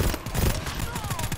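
Rapid gunfire in the video game GTFO, a quick burst of repeated shots over a second or so, close and fairly loud, with game noise underneath.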